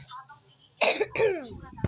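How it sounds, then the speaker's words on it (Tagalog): A person with a cough hacks sharply up close: one harsh burst, then a second rougher, throaty cough trailing off, after a moment of low background murmur. "may ubo ako"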